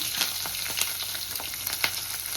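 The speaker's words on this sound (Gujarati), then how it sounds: "હવે મરચાં મૂકી દીધા અને છે ને તેલમાં જ ફેરવવાના છે." Green bullet chilies sizzle in hot oil while being stirred, a dense hiss punctuated by sharp pops and crackles at an uneven rhythm, close and clear.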